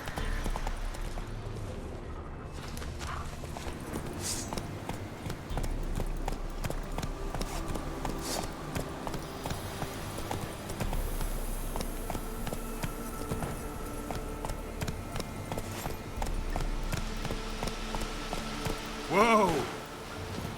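Roach, the horse in the video game Witcher 3, gallops with a steady, rhythmic clip-clop of hooves throughout, set against game ambience with a voice speaking at times.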